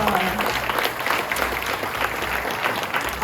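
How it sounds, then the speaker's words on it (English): Audience at a cultural center clapping for a hula dancer: dense, steady applause from a crowd, loud and sustained for a few seconds, with a faint voice underneath. "How about a round of applause for Kahanu, our Olapa?"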